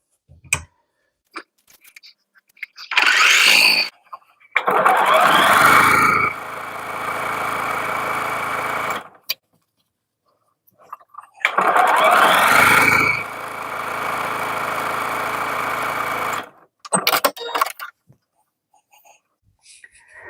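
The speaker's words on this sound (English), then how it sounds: "try to sew in 2 strands of rope." A sewing machine stitching two strands of rope into fabric strips to make tote bag piping, running in two long steady whirring bursts of several seconds each, with short starts and stops and quiet pauses between, close by.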